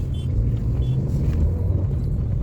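Dense city traffic rumbles at Shahpura Square in Bhopal, a steady roar of car and vehicle engines with a slight revving swell, continuous and close with no voices.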